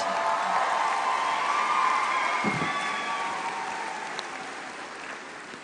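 Audience applause with some cheering at a 2017 high school graduation ceremony, loud and steady from a large crowd, tapering slightly toward the end.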